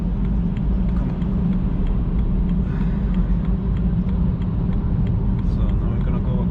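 A car crossing a lane on a road, heard from inside as a steady, loud engine and tyre rumble that continues without a break.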